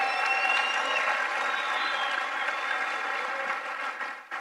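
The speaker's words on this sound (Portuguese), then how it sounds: "Uma salva de palmas para esses empresários" An audience at a business mentoring event in Angola gives a round of applause for visiting Brazilian entrepreneurs: loud, dense sustained clapping that holds steady and then thins out toward the end.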